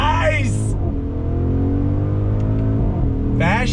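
The twin-turbo V8 engine of an Audi SQ8 SUV revs hard from a standstill and climbs through gears, with quick shift breaks, loud and close throughout.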